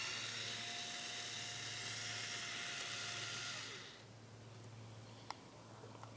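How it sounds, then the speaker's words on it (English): A cordless screwdriver whirs steadily for several seconds while backing out the battery lead screw on a Cub Cadet XT1 Enduro riding mower, then stops, leaving faint handling noise and a small click. "I'm using a cordless screwdriver."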